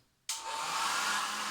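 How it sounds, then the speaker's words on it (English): A hair dryer switches on abruptly and blows with a steady, loud whooshing hum, close by and alone. "And then blow drying it."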